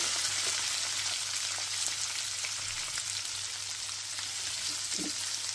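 Chopped onions frying in hot oil with mustard-seed tempering in a pan for a bitter gourd and tomato curry, giving a steady, even sizzle throughout with a low hum underneath and no talking.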